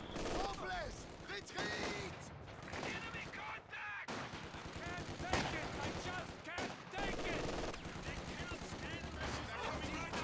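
Dense gunfire and explosive blasts from a Company of Heroes 2 battle, with rifle grenades bursting among rattling rifle and machine-gun fire; loud, continuous volleys with sharp impacts, while a voice talks over the fighting.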